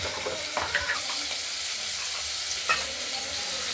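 Snakehead fish frying in a pan for a potato and tomato curry, with tomato added, gives a steady loud sizzle and a few soft stirring knocks.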